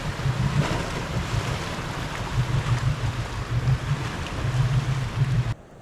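A Toyota 100 Series 4WD fords a creek on a Cape York bush track, its low engine rumble running under sloshing water and wind buffeting. The noise stays steady, then cuts off abruptly near the end.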